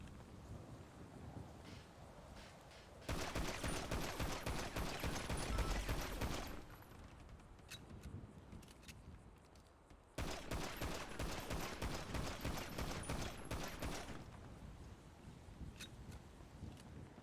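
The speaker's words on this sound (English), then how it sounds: "I'm having you empty the magazine at a short and a close distance so you can understand what the recoil feels like" A pistol magazine is emptied at close range on a shooting range, firing rapid, loud shots in two long bursts with a quieter pause between them, each volley cracking sharply and densely.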